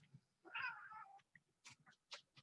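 A cat lets out one drawn-out, wavering meow, followed by a few short chirps and rustles. It is clear but recorded at low level, with no speech.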